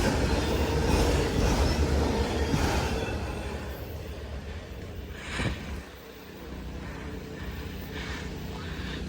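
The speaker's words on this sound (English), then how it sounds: "Symbol on this train is CSX L644" A short CSX freight train, the L644, rumbles past up close with three locomotives and six autorack cars, a steady loud roll of wheels on rail that eases off slightly toward the end.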